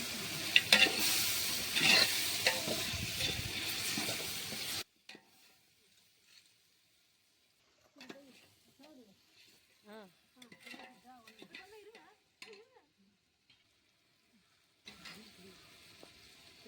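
Spices sautéing in a pan for biryani give a loud, close sizzle with stirring for about five seconds, then the cooking drops to near silence while someone talks.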